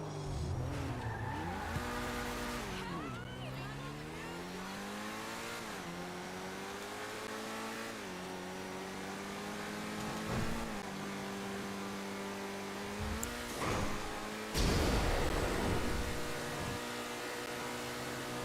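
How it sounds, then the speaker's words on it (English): A 1970s Lamborghini driven in GTA 5 Online, its engine note rising and falling through gear changes and a few tire squeals or skids, steady and fairly loud throughout with a brief rougher burst near the end. "Give me my 1970s Lamborghini."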